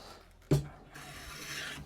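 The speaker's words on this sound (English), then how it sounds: "Just going to put quite a heavy chamfer" A heavy chamfer is cut along the edge of a wooden dog gate: one sharp rasping knock, then a longer, softer scraping pass, close and fairly quiet.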